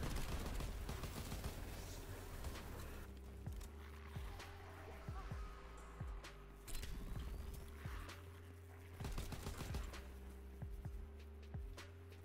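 Rapid gunfire rattles in Call of Duty WW2 Zombies, repeated bursts of shots over a dense droning game soundscape with mechanical clatter, moderately loud and continuous.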